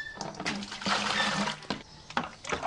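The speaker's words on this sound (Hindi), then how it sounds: "सबसे पहले 20 लीटर पानी डाल दे।" Twenty litres of water pour into a container for mixing a cow-dung farm remedy, a splashing, gurgling rush with uneven surges and brief pauses, close by.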